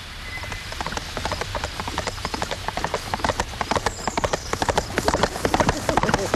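Horse hooves clip-clop in a steady, quickening rhythm of sharp knocks, close and prominent, with a low background hum and a voice speaking over them.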